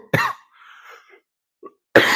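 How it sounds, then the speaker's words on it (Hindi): A man coughs close to the microphone, a sharp cough at the start and another at the end, with faint throat noises between them during a classroom lecture. "थोड़ा खांसी आ रही है"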